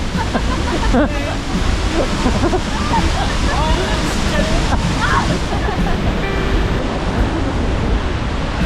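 Seljalandsfoss waterfall in Iceland roars as a loud, steady broadband rush that fills the whole stretch, with people talking and calling out over it.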